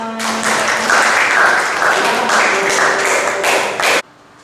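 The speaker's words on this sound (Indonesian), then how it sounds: "Tepuk tangannya mana?" Children in a classroom applaud together during an Islamic religious education lesson, a steady burst of dense clapping lasting about four seconds before cutting off abruptly, with faint voices mixed in.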